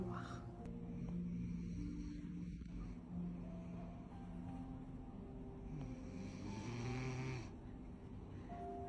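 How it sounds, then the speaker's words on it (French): A man asleep during a spa-style facial treatment snores in slow, rough breaths beneath a steady low rumble of background noise, with no talking. "Tu ronfles, tu sursautes."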